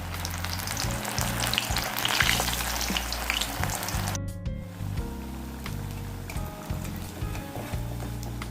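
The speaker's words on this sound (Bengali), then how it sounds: "দেখো ভাজাটা হয়ে গেছে, এবার আমি উঠিয়ে নেব।" Shrimp pakoras fry in hot oil over a low flame, a close, steady sizzle and bubbling that runs throughout, briefly interrupted by a short clatter midway.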